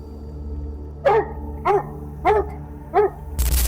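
Hunting dogs bark at a cornered wild boar in a Scandinavian forest: four evenly spaced, loud barks close by, followed by a sudden burst of noise.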